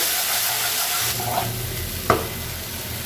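Spices cook with whisked yogurt in a pan, a dense steady sizzle and hiss close by, with one or two soft stirring scrapes and a sharper knock near the end, and no voices.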